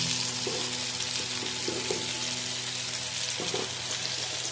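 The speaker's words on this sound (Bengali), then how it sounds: "এবার কড়াইতে ক্যাপসিকামগুলো দিয়ে দিয়েছি, এবারে কাঁচা লঙ্কার কুচিগুলো দিয়ে দিলাম" Chopped capsicum and green chillies fry in oil in a kadai while making chilli chicken, giving a close, constant sizzle with a few soft stirring touches and no talking.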